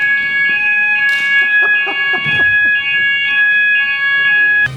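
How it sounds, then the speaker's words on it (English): An indoor fire alarm set off by a smoke machine sounds a loud, piercing, continuous electronic tone, with a few brief knocks and clatters in the background. "smoke machines can actually set off fire alarms"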